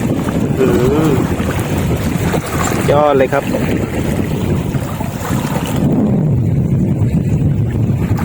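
Steady wind and lapping water noise at Huay Mai Teng reservoir, Chom Bueng, Ratchaburi, Thailand fill the background, with someone speaking briefly over it near the start.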